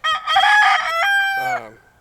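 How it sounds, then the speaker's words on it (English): A rooster crows once, loud and close, a drawn-out cock-a-doodle-doo ending in a falling note. "So those are our garden chickens."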